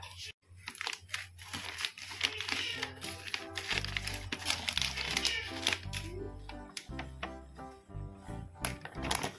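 A 5 kg packet of flour is cut open and the flour poured out. Close crinkling and rustling of the plastic bag, with scattered clicks and a soft steady pouring hiss, lasts throughout.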